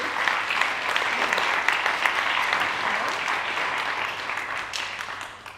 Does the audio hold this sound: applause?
yes